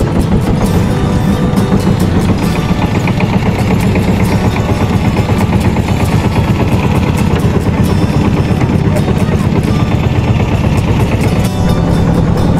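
A dinghy boat's motor runs loud and close while crossing the Brahmaputra river, a steady, unbroken chugging drone that lasts throughout.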